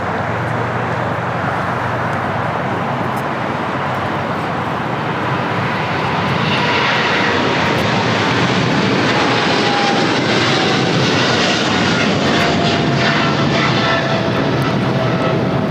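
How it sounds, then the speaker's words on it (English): A China Cargo Airlines Boeing 777 freighter takes off for Shanghai, its engines roaring loud and continuous, with a rising whine building partway through and filling the clip. "Taking off to Shanghai on a 777 freighter"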